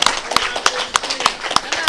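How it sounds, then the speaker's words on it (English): Spectators at a world artistic pool masse tiebreaker clap in a steady rhythmic beat to pump up a player before his final shot, sharp evenly spaced claps heard close and loud. "Give him a round of applause here, guys."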